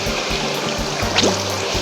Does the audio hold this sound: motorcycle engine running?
no